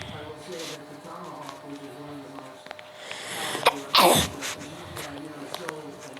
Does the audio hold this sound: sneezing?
yes